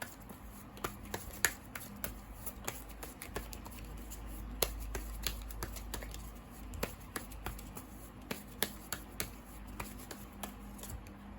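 Oracle cards are shuffled by hand, giving a quiet, close run of irregular crisp snaps and flicks over a soft background hum.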